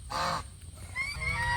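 Ducks on the water give two bursts of nasal honking calls, the first short and the second longer and wavering, over a steady outdoor background hum.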